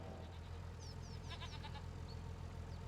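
Goats bleating in the Farming Simulator 25 video game, set on a 1990s farm in spring 1993: several short bleats in a cluster, over a steady low ambient hum.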